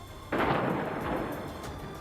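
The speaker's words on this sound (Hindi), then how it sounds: "झड़प के बीच एक जोरदार धमाके की आवाज सुनाई दी" A loud explosion goes off during clashes in a Palestinian refugee camp in news footage, a sudden single blast followed by a rumbling roar that slowly fades.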